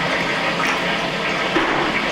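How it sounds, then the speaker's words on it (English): A toilet in Japan flushes after its button is pressed, a steady close rushing wash of water that holds evenly throughout. "seems to flush the toilet."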